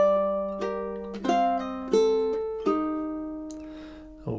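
Solo ukulele plays the opening two measures of Tárrega's Adelita, a handful of clear plucked notes and chords ringing out one after another with gentle decay, close and moderately loud.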